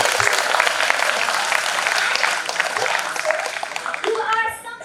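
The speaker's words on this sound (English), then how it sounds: "huge round of applause for" Audience at a school engineering talk on climate change giving a round of applause, steady dense clapping from a crowd that fades out near the end, with faint voices around it.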